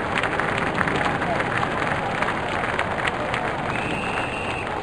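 A stadium crowd cheers and roars continuously in the Real Cricket 20 cricket video game, a dense, loud wash of noise that does not let up.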